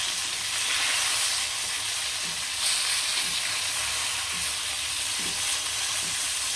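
Snakehead river fish frying in hot oil, a steady close sizzle with soft occasional stirring knocks, no voices.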